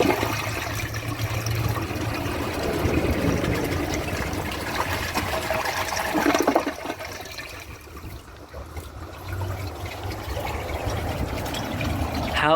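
A weak toilet flushes, a steady rush and trickle of water running for several seconds before tapering off into a quieter, thinner flow of refilling water.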